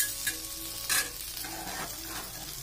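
Bora fritters sizzle in hot oil in a pan, with a steady frying hiss and a few scraping stirs as the pieces from the side are turned and moved to the middle.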